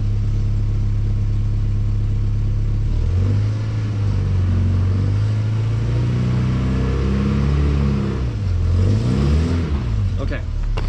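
Volkswagen Golf GTI in first gear pulling up, its engine droning low and loud then rising and wavering in pitch as revs climb and settle, close by and continuous.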